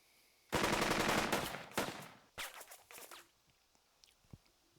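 Machine gun fire in the tactical war game Burden of Command: a loud, dense automatic burst that tapers off, followed by shorter rattling bursts and a few scattered distant cracks, with no talking.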